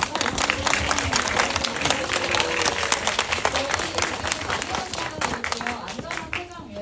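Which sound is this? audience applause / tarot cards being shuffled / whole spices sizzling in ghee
audience applause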